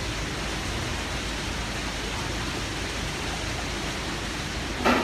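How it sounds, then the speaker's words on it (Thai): Steady broadband hiss of rain falling outdoors, continuous and fairly loud throughout, with a brief louder bump near the end. "ฝนตกเหรอเนี่ย"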